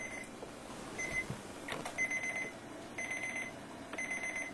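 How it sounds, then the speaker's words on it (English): An alarm clock rings indoors in repeated short bursts of high electronic beeping, four evenly spaced groups over a faint room hum. "That's your alarm."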